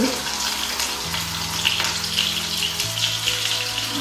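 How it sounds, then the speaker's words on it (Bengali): Hilsa fish head hits hot oil with browned onions in a pan, giving a steady close sizzle and crackle that runs throughout, with a faint hum underneath. "এখন আমি মাছটা দেবো ইলিশ মাছের মাথা একসাথে দিয়ে দিয়েছি"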